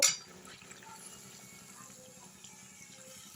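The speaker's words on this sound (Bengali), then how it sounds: "এবার সবজিটা সেদ্ধ হওয়ার জন্য আমি জল ঢেলে দেব" Water poured into a pan of vegetables being cooked for sour spinach curry, a brief close splash at the start followed by a soft, steady liquid trickle with no voices.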